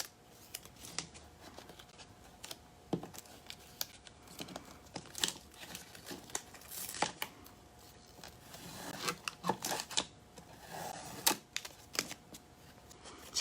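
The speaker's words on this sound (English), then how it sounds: "So now I'm going to lift my tape." Painter's tape peeled off painted furniture, giving a long stretch of close, soft ripping and crinkling with irregular bursts and small taps, quiet with no talking.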